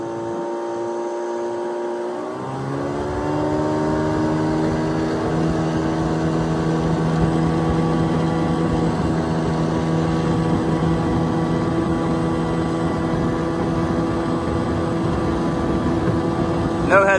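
A 1998 Carolina Skiff J16 outboard motor is opened up on rough water, the engine note rising sharply after a quiet start and then holding a loud, steady drone close by.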